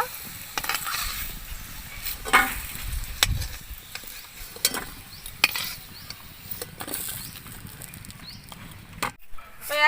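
Potatoes frying in mustard oil in a home kitchen give a faint, steady sizzle, broken by scattered clinks and scrapes of a utensil against the pan.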